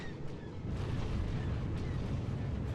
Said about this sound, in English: We're being shot at by turrets, maybe?